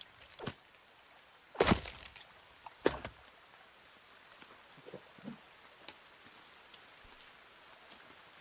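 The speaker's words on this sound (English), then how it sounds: "It's raining, dude." Rain falls in the survival video game The Forest, a soft steady patter with a few sharper drops and thuds standing out, heard alone without talk.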